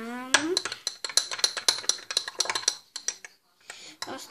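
Slime mixture of glue and foam being stirred in a bowl, with a rapid run of sharp clinking and scraping strokes from the utensil against the bowl, close and fairly loud, pausing briefly near the end before resuming.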